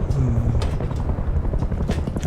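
Helicopter rotor in the video game Rust spinning up for takeoff, a loud steady thrumming chop with mechanical whine throughout.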